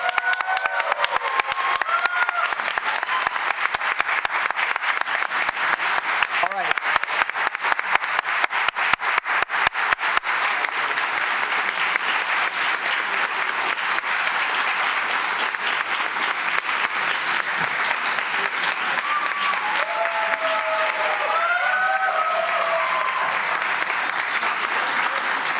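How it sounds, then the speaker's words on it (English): Sustained applause fills a city council chamber in Troy, Oakland County, Michigan after an official's swearing-in, a steady wash of clapping from the seated audience that carries on at even loudness for the whole stretch, with a few faint voices underneath near the end. "You may applaud."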